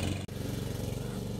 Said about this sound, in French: Allez, on pousse la tondeuse, on y va, on y va.